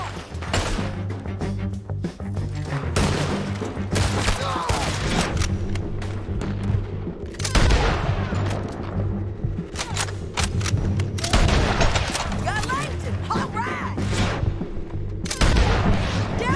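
Sustained gunfire and explosions from a shootout in Red Dead Redemption 2, a gang hideout raid with rapid shots, booms and crashes over a steady low musical bed, loud and dense throughout.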